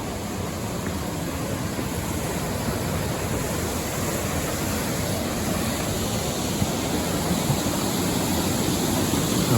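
Creek water rushes steadily beneath a bridge on a mountain trail near Mt. Washington, a constant broadband roar with no pauses or voices.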